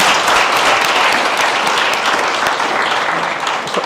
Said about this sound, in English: let's give our speakers this afternoon a warm round of applause